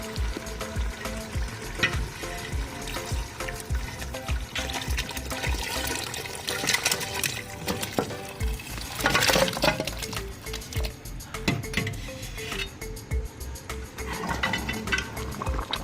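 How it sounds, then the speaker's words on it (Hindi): Tender boiled beef trotters go into a pot of prepared masala and are stir-fried, with wet bubbling and sizzling, splashing liquid and repeated metallic clinks of a spoon against the pot. Nobody speaks. "अब हम इसके अंदर अपने पाए ऐड करेंगे। पाए हमारे गल चुके हैं, इसके अंदर ऐड करेंगे और उनकी भुनाई करेंगे।"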